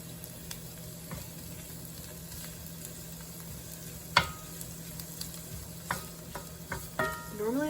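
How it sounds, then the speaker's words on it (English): Shiitake mushrooms and ginger frying in a pan at a low, steady sizzle, with a few sharp clinks of a utensil stirring against the pan and a louder scrape near the end. "I think we'll go ahead and put the mushrooms in."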